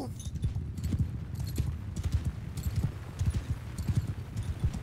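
Massed cavalry hooves clip-clop across a battlefield in Mount & Blade II: Bannerlord, a steady galloping thud of many horses with rhythmic low beats, occasional metallic clinks and a faint whinny.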